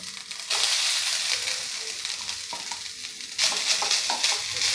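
Fresh grated coconut tipped into a pan of lightly roasted poppy seeds, a loud hiss that jumps up as it lands and then settles into steady frying with stirring scrapes, heard close.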